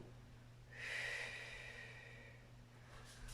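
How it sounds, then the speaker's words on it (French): A person breathes deeply during a yoga hip stretch, with one long, soft exhale rising near the start, then a quieter, steady breath that continues to the end, close and alone with no talking. "Prends des grands souffles."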